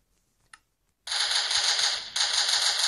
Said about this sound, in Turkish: Bildiğin taramalı gibi bir şey bu.